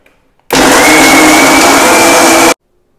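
A blender runs loud and steady for about two seconds, blending dates, pistachios, nuts and carob powder, then stops abruptly into silence.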